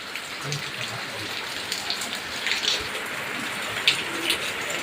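Steady light drizzle outside in a village, a continuous even patter of fine raindrops on surfaces with faint scattered taps, no voices.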